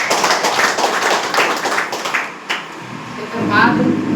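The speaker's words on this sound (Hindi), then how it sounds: "सब के एक जोरदार ताली" Dense clapping from a group rises and continues for a few seconds, then fades as a voice and background noise take over.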